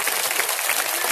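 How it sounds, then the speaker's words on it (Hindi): An audience at a spiritual discourse in Noida claps loudly in a dense, steady burst of applause that fills the whole short moment. "इसलिए आप इनके लिए भी जोरदार ताली बजाएं"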